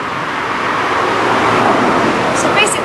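Cars pass on a busy Los Angeles street, a continuous broad roar of traffic swelling slightly as vehicles go by, close and fairly loud, with people talking faintly in the background.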